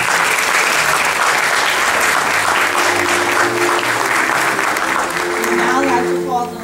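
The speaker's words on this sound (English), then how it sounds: "Let's give them all a round of applause" A hall full of people clapping at an awards ceremony, loud and continuous, with a faint voice starting to speak under it near the end.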